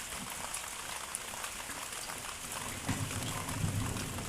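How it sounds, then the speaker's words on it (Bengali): Heavy early-morning rain patters steadily as a soft, even hiss with scattered drips, fairly faint and distant, with a low rumble rising slightly toward the end. "আজকে ভোর থেকে খুব বৃষ্টি হচ্ছে"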